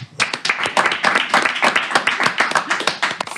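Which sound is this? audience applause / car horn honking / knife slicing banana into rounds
audience applause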